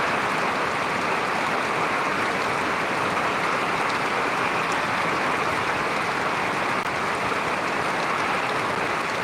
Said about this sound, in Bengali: বৃষ্টি প্রচুর বৃষ্টি হচ্ছে